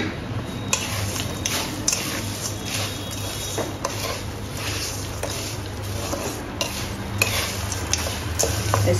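A spoon scrapes and stirs roasted poha chivda with makhana and coconut in a pan, producing a steady stream of light scraping and rustling with occasional clicks of metal on metal, close and moderately loud, with no talking.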